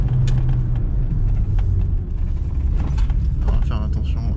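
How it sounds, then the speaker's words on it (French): Worn-out tyres rolling on an Audi A3 1.8T, a steady loud road rumble with creaks and mechanical noise from inside the moving car, no voices over it. "on entend les pneus, ils sont vraiment en fin de vie"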